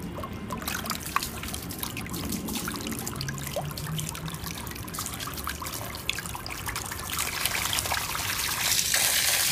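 A micro brushless DC pump, model DC50E-1280S running on 12 V, sprays water from its outlet out of the water, giving a steady close trickling and splashing hiss that builds slightly toward the end.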